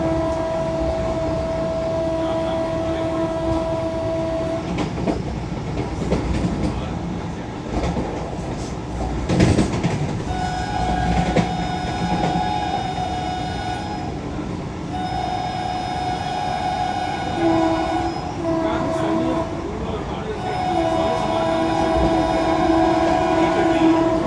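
The Mangala Lakshadweep Express passes alongside the Bhopal Vande Bharat as a loud, sustained rumble with steady wheel clatter and long tonal horn blasts, heard from inside the moving train.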